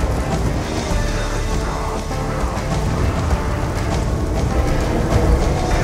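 Steady, dense video-game rainfall in Call of Duty Zombies Origins hisses and patters throughout, with a low rumble underneath like distant thunder; no voices.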